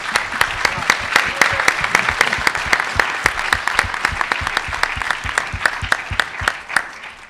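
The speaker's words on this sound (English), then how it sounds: "Let's have another round of applause for this group here." A debate audience breaks into applause for a group, loud close clapping with many distinct sharp hand claps in a brisk, uneven rhythm that carries on throughout.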